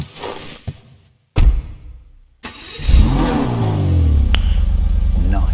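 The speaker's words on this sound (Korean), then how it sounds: "제가 엔진 소리도 한번 들어볼게요" A sports car engine starts and revs: brief clicks and a short burst, then the motor catches with a rising, sweeping growl that settles into a loud, steady near idle.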